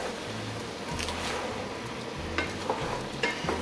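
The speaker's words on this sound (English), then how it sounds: "More like a pulled pork stir fry." A pork soft bone stir fry with ginger, garlic and onions sizzles in a pot, a steady close frying hiss with occasional sharp scraping clicks of stirring, no voices.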